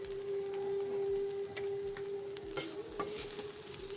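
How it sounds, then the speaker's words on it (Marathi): Poha with matar and freshly chopped coriander is stirred in a pan, giving a faint, soft scraping and light sizzle over a steady hum, with a few louder stirring strokes. "कोथिंबीर मिक्स करून घेते"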